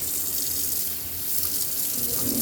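A crawlspace self-pumping system pumps out water, a steady gushing, running-water sound without pauses, moderately loud and close.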